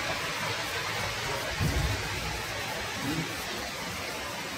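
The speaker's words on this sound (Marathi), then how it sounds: "खूप जोरदार पाऊस चालू आहे आज." Heavy rain falls outside, a dense, steady hiss that holds at an even loudness through the whole stretch, with a couple of faint low rumbles and no talking.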